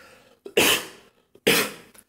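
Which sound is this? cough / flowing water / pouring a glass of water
cough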